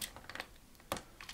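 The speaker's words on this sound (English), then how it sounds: "I'm using this flathead screwdriver and just go under the keys there. Just carefully pry them out." Flathead screwdriver prying keys off an Amiga 1200 keyboard, a handful of sharp plastic clicks and snaps, close up and isolated, with one louder pop near the middle.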